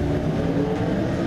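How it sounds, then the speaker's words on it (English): Regular Aprilia V4 four-cylinder sport motorcycles rev with a raspy engine note, heard steadily and fairly close. "It's a raspy four cylinder."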